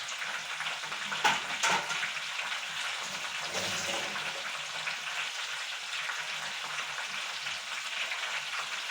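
Jackfruit fritters (chakka pori) fry in hot oil, giving a steady, even sizzling hiss that holds throughout with a couple of brief louder crackles early on, and no voices.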